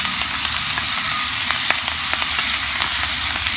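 Green chilli, ginger and garlic sizzle hard as they are sautéed in hot oil for a dried-fish pickle, a steady close crackling fry with small spattering pops and no voices.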